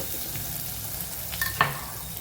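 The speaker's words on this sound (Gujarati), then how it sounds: "ડુંગળીને સાતળી લેવાની છે આપણે" Onions sautéing in a pan for pakoda bites, a steady close sizzle with a couple of quick scraping stirs around the middle and no talking.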